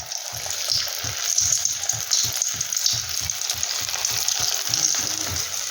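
Steady oil sizzling of vegetable-filled twist rolls frying, with a continuous bright hiss and soft rhythmic bubbling underneath, close and fairly loud, no talking.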